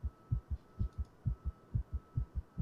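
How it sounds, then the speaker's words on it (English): Steady double-thump heartbeat from The Letter horror video game, about ten lub-dub pairs in a regular rhythm, low and muffled against a faint background hum, with no talking. "And I hear a heartbeat."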